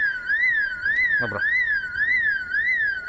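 A car alarm in Project Zomboid wails loudly with a repeating rising-and-falling electronic tone, set off when a window is opened; someone briefly speaks over it.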